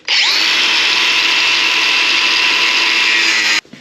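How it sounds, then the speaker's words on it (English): An angle grinder cuts through a metal fuel fitting for a jet and car fuel supply, a loud continuous high-pitched whine that starts abruptly and cuts off sharply after a few seconds. "So we're going to use an angle grinder, cut through here"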